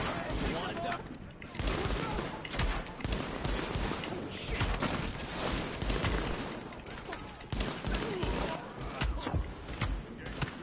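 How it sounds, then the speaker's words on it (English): Dense, rapid gunfire with explosive rounds crackles and thumps almost without pause through a firefight in the video game The Division, with voices talking over the shooting. "these explosive bullets are hilarious"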